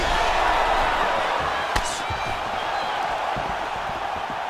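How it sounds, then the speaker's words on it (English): A virtual arena crowd in the EA Sports UFC 4 fighting game roars steadily through a bout, with a brief thud of a strike landing partway through and no let-up in the crowd noise. "you hear the crowd react every time they come together because they understand the power that these guys are striking with"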